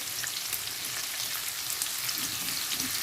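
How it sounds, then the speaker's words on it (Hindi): Onions frying in a pan over a medium-low flame, giving a steady, even sizzle with light crackling throughout, close and uninterrupted by speech. "अब इसे हम ब्राउन करेंगे।"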